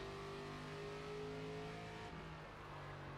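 Race car engine in the NASCAR 25 video game accelerating under throttle, a steady loud mid-pitched drone with harmonic whine that holds for several seconds and thins slightly near the end, no talk over it.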